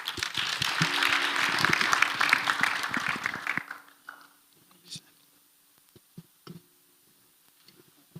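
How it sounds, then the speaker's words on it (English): Conference audience applauding at a scientific meeting as a chairperson is welcomed, loud dense clapping for about four seconds that fades out, followed by a quiet room with scattered small knocks. "A big round of applause"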